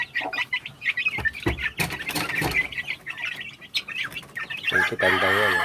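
White Hatch Cross hens and young chicks cluck and peep close by in a busy, overlapping chorus, with a louder, sustained call near the end.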